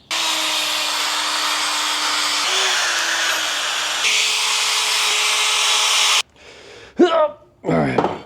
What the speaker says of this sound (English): Let's take a wire brush in here and clean all of this up.